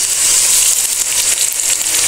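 Tomatoes and tomato puree sizzle steadily in a hot pan for aloo baingan sabzi, a dense close frying hiss with no break and no talk.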